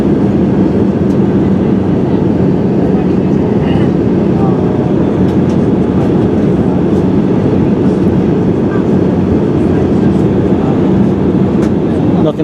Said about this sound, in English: we're now descending into approach for landing at London Gatwick now